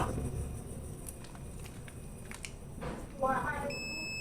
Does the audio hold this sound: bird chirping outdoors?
no